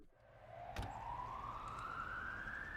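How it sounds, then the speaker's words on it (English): A rising siren wail in a song climbs steadily in pitch over a low pulsing beat, with a sharp hit near the start. "with the sirens, with the police theme and whatnot"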